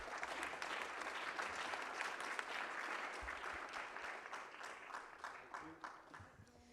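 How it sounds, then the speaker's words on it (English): A conference audience at a CCUS network forum claps for the panelists in sustained, fairly faint applause that tapers off toward the end. "I'd like to ask all of you to your clap to the panelists."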